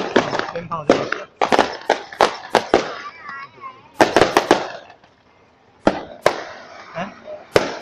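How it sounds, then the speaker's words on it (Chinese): Firecrackers burst in quick, sharp, irregular volleys at a Taiwanese temple festival procession, with a short lull in the middle and people talking between the cracks. "鞭炮就是"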